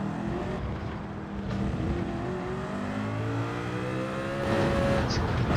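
A Gr2 race car in Gran Turismo 7 carries speed through a turn, its engine droning at a steady, fairly loud pitch that shifts and rises near the end, with a faint voice underneath.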